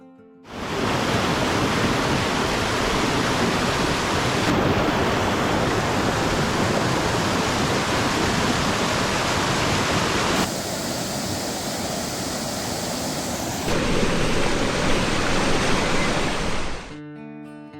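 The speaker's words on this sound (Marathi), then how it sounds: "धबधब्यापासून वाहून येणारं खळाळतं पाणी अतिवेगाने पुढे जात आहे" A loud, continuous roar of rushing water from a large waterfall feeding a fast stream over rough rocks, steady and close throughout with no voices, at Vanalakshmi Waterfall near Badlapur.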